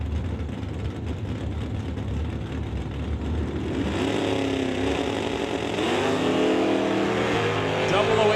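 A 1996 Camaro and a 1969 Dodge Dart drag race at an NHRA divisional event, engines droning and then rising loudly in pitch as they accelerate, with a track announcer talking over the noise.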